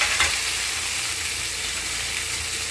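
A tempering for white pumpkin sambar splutters in hot oil, a loud, bright, continuous sizzling hiss up close with a few sharper pops near the start, and no voices.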